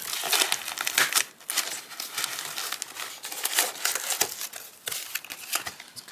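Cutting into a heavily taped flat rate shipping box, with dense crinkling, crackling and tearing of tape and cardboard in close, continuous bursts.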